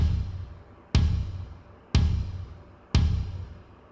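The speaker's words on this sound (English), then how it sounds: "We call these devices metronomes" Metronome for bass practice keeps a steady beat, four sharp clicks spaced about a second apart, each ringing briefly with a low thump underneath, close and clear with no talking.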